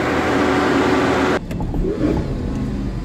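A Lamborghini Gallardo with a brand new engine fitted roars loudly at steady high revs, then drops abruptly to a rough, rumbling idle, heard close up.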